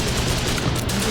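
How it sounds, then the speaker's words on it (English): Rapid gunfire crackles through a military video game, a dense, loud burst of overlapping shots filling the short moment without pause. "I hear gunfire here."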